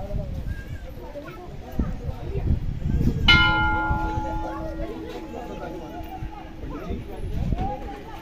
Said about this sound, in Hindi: घंटी बजवा दो